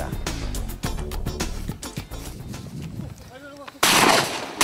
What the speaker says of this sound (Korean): 조용한 마을에 울리는 총성.